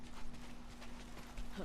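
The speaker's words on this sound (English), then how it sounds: "Yo, is that a horse?" Horse hooves clip-clop at a steady pace in Ghost of Tsushima, fairly soft and mixed under ambient game sound with a voice talking over it.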